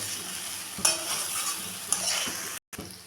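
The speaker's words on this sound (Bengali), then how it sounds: "এখন আমি ভেজে রাখা আলু আর সোয়াবিনটা দিয়ে দিলাম দিয়ে আমি ভালো করে মিশিয়ে নেব" A spoon stirs fried potatoes and soybean chunks into a cooking masala in a pan, with a steady sizzle of frying, scraping strokes and a couple of sharp metal clinks, then a brief cutoff.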